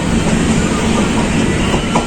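The Purnagiri Jan Shatabdi Express runs on the track between Bareilly and Moradabad via Chandausi, giving a loud, steady, close rumble of wheels on rails with a faint rhythmic clatter and no speech.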